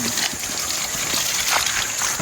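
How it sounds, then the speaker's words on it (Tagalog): Steady stream of water poured and splashing continuously to rinse a mud-caked jacket outdoors, loud and close, with no talking over it. "Hugas ko muna kami ng tubig."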